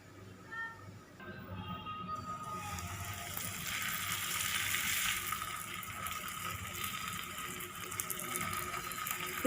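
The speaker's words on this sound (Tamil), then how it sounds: "இப்போ நம்ம பேனில் போட்டு ஃப்ரை பண்ணிடலாம்." An aloo paratha fries in a pan, giving a steady, fairly faint sizzle that builds slightly and holds on as a continuous hiss, with no talk over it.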